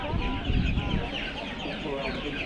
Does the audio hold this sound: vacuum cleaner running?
no